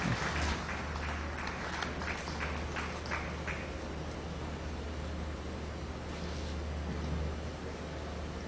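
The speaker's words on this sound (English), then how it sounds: "Request you to just give a round of applause to all our distinguished gentlemen." A round of applause for distinguished guests fills a hall: a burst of claps that thins and fades after a few seconds into a steady, low room hum.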